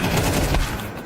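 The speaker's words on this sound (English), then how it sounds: "And Lear gets the wall bang." A burst of loud, dense gunfire from Counter-Strike 2 in a match at the BLAST Austin Major, rapid overlapping shots that fill the whole brief moment.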